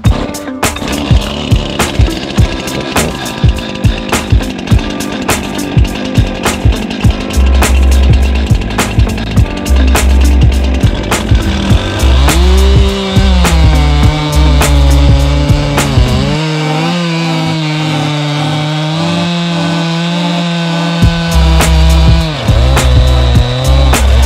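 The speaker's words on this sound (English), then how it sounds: "this saw is sharp and ready to cut some firewood" Stihl chainsaw cutting firewood: a loud, close engine idles and clatters, then revs hard and whines under load through the cut for several seconds before dropping back to idle.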